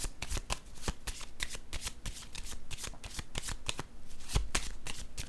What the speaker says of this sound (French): Je vais déposer une carte sur le cadeau à l'envers.